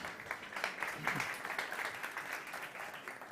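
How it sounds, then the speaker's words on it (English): Faint, continuous applause from the audience at a startup competition on energy and sustainability, a soft, even patter of many hands heard at a distance. "Big applause, guys"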